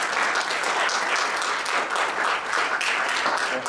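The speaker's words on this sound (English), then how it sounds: "Would you give Jesus a big hand clap tonight?" Church congregation applauding after a sermon prayer, a steady, dense wash of hand clapping filling the room throughout, loud and continuous with no talk on top.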